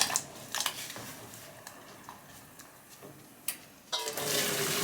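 Blanched, evenly cut potato pieces being drained, with a few light clicks and knocks before a steady rush of pouring water rises in the last second and runs to the end, fairly close.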